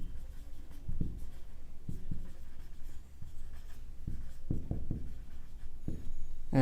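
A pen writes math equations on paper during a class lesson, short scratchy strokes in irregular bursts, close and fairly quiet, with no speech.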